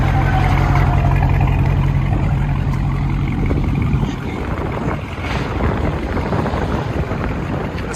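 A Daytona edition car engine idles loudly nearby with a steady low rumble, its tone shifting partway through, under heavy wind buffeting on the microphone.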